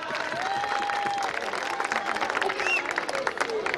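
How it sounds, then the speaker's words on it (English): An audience at a school silver jubilee celebration applauds a teacher, with sustained crowd clapping and a few whistles rising above it. "So let's do a hand of applause for Sanchita Guha madam."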